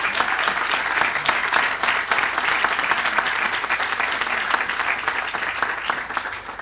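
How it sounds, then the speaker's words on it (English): A crowd at a groundbreaking ceremony claps steadily, with sustained dense applause at moderate volume and no talking throughout. "So I want to give them a round of applause."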